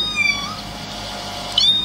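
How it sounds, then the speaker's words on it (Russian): A kitten meows faintly somewhere upstairs on a rainy night, two thin, high, brief calls at the start and near the end over a low, steady background hum. "Опять котенок мяукает."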